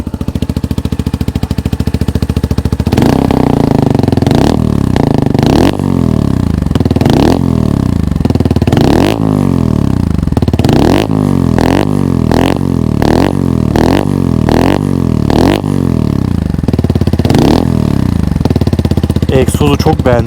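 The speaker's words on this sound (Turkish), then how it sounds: "egzozun sesi çok tok." A Kuba Race 125 motorcycle, still in its break-in period, revs repeatedly with a deep, full exhaust note, throttle blips rising and falling in a steady rhythm, loud and close with some clatter.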